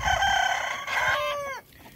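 A rooster crows loudly and close by, one long drawn-out call that rises and then trails off, with a faint barnyard murmur behind it.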